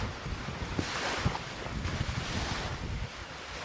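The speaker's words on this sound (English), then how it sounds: "That kind of sounds like waves." AI-generated ocean waves: a steady broadband wash of surf with gusty, wind-like rushing swells and small splashy bursts, continuous throughout with no voices.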